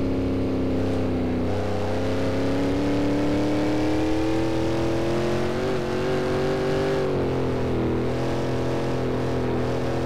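Shelby Cobra engine in the Assetto Corsa racing game at the Nordschleife, droning loud and steady with rising and falling revs through gear changes, no voices.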